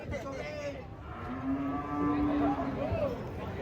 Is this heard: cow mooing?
yes